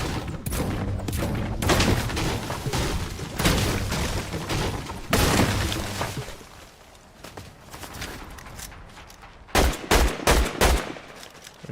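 Video game gunfire crackles in rapid automatic bursts, then quiets before a few sharp, loud closing shots ring out near the end.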